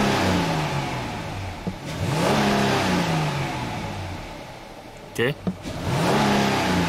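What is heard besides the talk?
Dodge Charger engine revving as the throttle is snapped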